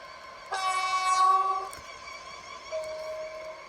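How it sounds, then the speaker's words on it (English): Train horn sounding as a train approaches the platform in the Roblox railway game Stepford County Railway: a loud sustained two-tone blast for about a second, then a quieter steady tone over rumbling running noise. "The train now approaching platform 6 terminates here."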